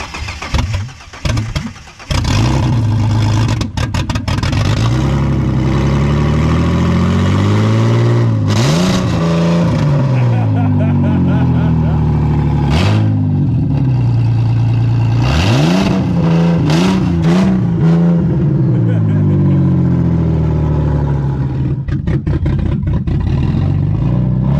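A scrap car engine cranks, catches and starts after a brief stutter, then idles loudly close by with repeated revs rising and falling over about twenty seconds, with no voices.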